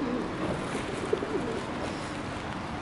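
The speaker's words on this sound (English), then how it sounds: "So in the end there was one pigeon, but now there's quite a few." Pigeons cooing outdoors among other birds including a wood pigeon, soft low coos heard faintly a few times against a constant rushing background.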